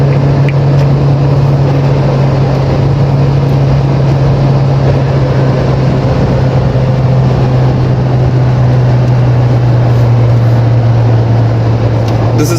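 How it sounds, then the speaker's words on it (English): A 2022 Suzuki Jimny with its K series engine accelerating hard from 0 to 100, with a loud, steady engine drone and a low hum that rises smoothly without clear gear-change breaks, heard from inside over road noise. "The acceleration, the engine is so refined that you don't feel the gear changes."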